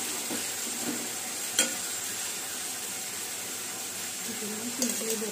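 Ground masala paste fries in a pan for a village-style river fish curry, giving a steady close sizzle and hiss with a few sharp clinks of stirring. A voice murmurs faintly underneath.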